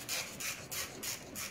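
Plastic engine cover being removed from a Mercedes W168 A190, a series of rough rubbing, scraping pulls in quick bursts, close up with no talk.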